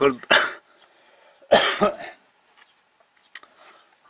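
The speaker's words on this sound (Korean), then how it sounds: "목소리 성대가 울리면 봄 되면 이렇게 헛기침이 납니다." Two harsh throat-clearing coughs, close and loud, separated by a pause, followed by faint small noises.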